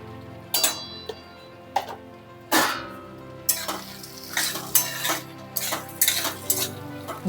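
Green corn chevdo, with salt added, is stirred in a pan. A spoon gives a series of sharp scrapes and clinks against the metal at an irregular pace, close and clear, with no voices.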